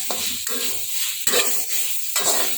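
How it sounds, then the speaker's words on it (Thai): Shallots and pork being stir-fried in a pan with sugar, a steady sizzle under repeated scraping strokes of a utensil, a few louder sweeps standing out, no one talking. "ก็ผัด ให้เข้ากันอีกรอบนะคะ พอสุกหอมแดงสุกใกล้ที่นะคะ"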